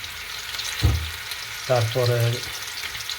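Oil with ginger garlic paste sizzling in a wok on a medium flame, a hiss running throughout with a couple of stirring bumps; a voice speaks briefly over it.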